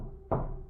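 A single sharp knock on a wooden cabin door, close and fairly loud, striking once against a quiet low background hum and fading quickly.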